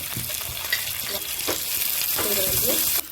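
Mustard seeds, cumin, dried chillies and onion tempering in hot oil, a close steady sizzle with sputtering crackles and a few stirring scrapes.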